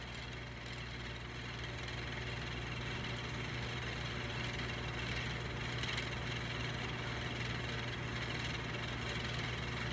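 A Marvin Model 1015 10-inch single window fan runs steadily, giving a constant low hum and broad airy whoosh with no break, picking up speed as it warms.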